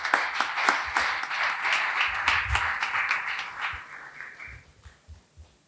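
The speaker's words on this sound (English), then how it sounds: "Please join me in giving him a round of applause" Audience at a fireside chat on the music business applauding as a panelist is introduced, a full burst of many hands that holds steady, then thins into scattered individual claps before fading out.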